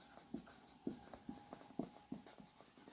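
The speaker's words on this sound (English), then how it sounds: "Let's write here." Chalk or pen tapping and scratching on a board or paper in a lecture setting, a string of short, fairly quiet strokes and taps at an irregular rhythm.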